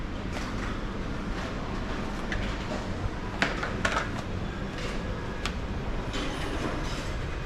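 A toy train rumbles steadily nearby, with rhythmic clicking and a few sharp metallic squeals over the continuous roar.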